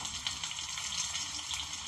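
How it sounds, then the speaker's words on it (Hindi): Onion, garlic and ginger frying in a pan for a spiced makhana curry, giving a steady, dense sizzle that holds evenly close up with no pauses. "जो प्याज अदरक लहसुन हम इसमें डाले हैं वो थोड़ा सा भुंजा गए हैं"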